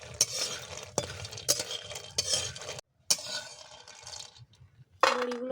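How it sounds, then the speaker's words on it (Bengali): Lentil badi fry in oil while a utensil scrapes and stirs the pan in several loud strokes, with a soft sizzle between them and a brief pause near the middle. "বড়িগুলো প্রায়ই আমার ভাজা হয়ে গেছে"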